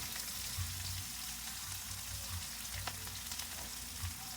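Onion and garlic frying together in a pan, a continuous soft crackling sizzle with faint stirring, heard close and fairly quiet, no talking.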